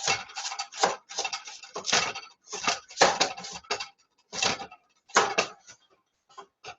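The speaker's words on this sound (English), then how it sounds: "while I slice up my carrot" Knife chopping a carrot on a cutting board, sharp close taps in irregular clusters with short silences between, crisp and distinct with no talking.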